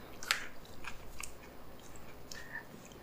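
A person chews food with soft, close, wet crunching and biting noises that come at an irregular pace over a quiet background, with no talking.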